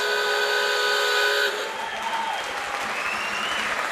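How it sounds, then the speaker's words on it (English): A loud, steady full-time hooter blares and then cuts off at a rugby league match at Odsal stadium, giving way to a roaring crowd cheering and applauding. "The Hooter's going to go."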